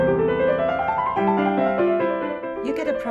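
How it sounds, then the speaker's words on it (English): An early ISMIR anthem song plays with sustained harmonic tones and shifting chords, steady and fairly loud, with brighter accents entering near the end. "what you're hearing is an early ISMIR anthem."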